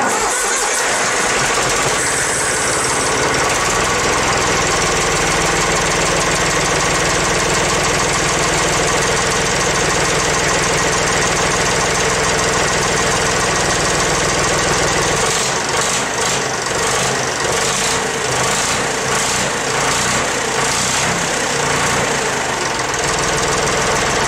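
Valmet 565 tractor engine running just after being started following an oil filter change, settling into a loud, steady, close idle with a continuous rumble and faint knocking texture throughout.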